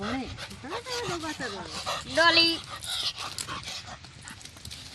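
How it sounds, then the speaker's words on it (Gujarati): A dog whimpers and yips with high, rising whines, including a sharper burst midway, while someone talks nearby. "કૂતરો"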